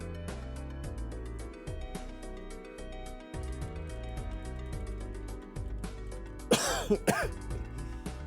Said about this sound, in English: My God, I hate nasal drip